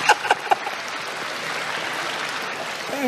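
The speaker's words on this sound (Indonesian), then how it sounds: "Tepuk tangan Mas Ditya" A crowd applauds Mas Ditya as he returns to the stage, a few sharp claps opening into a steady wash of clapping that continues evenly for a few seconds.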